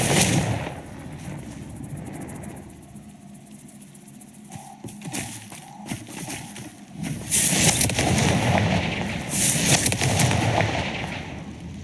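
Repeated blasts from the Confringo fire spell in Hogwarts Legacy, a dense, loud, continuous crackle of explosions with combat noise throughout.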